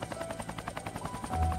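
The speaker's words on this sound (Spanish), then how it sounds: "Helicóptero." A helicopter in the game Heart's Medicine: Hospital Heat, its rotor beating in a fast, steady chop that thrums loudly throughout, with a low engine drone swelling near the end.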